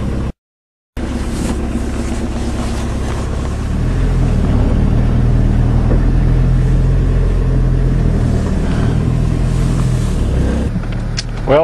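Diesel vehicle driving a long stretch of road, with a loud, constant low engine drone and wind noise heard from inside the cab after a brief gap at the start.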